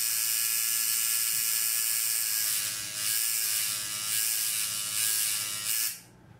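A coil tattoo machine fitted with cartridge needles buzzes steadily and close, with a bright, constant electric whine and faint pulsing swells before it cuts off near the end; no one speaks.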